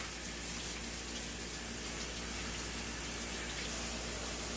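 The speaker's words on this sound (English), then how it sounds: "Let me go ahead and wash my hands." Water runs steadily from a kitchen tap during handwashing, a constant soft hiss of moderate level with no talking over it.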